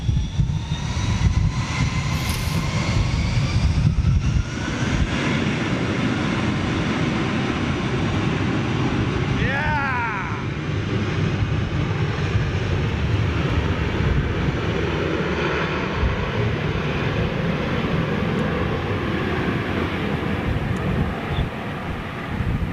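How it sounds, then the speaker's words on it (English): A Turkish Airlines A321 jet passes overhead with a steady, loud broadband roar that holds throughout, a brief whining sweep rising midway, with light wind buffeting and no voices. "Wow, this is dirty old Turkish Airlines 321."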